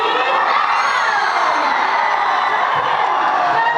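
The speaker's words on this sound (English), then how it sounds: "One of the twin sisters with a huge round of applause." A large crowd cheers and whoops with steady, loud applause for twin singers Sukriti and Prakriti Kakkar at a Foundation Day stage show in Karbi Anglong, a dense continuous roar with no break.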